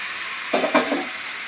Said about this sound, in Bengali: সব কিছু একসাথে ভাজাভাজি হয়ে যাচ্ছে, মিলেমিশে একাকার